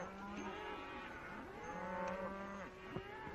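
Cattle moo several times in overlapping, drawn-out calls, some near and some farther off, with no talking.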